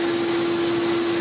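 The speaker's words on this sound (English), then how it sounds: "With this one, let's just hoover that up." A vacuum cleaner hoovers up dust around small pieces of a steampunk motorised gauge kit, a loud, steady close motor whine with a constant high tone and no pauses.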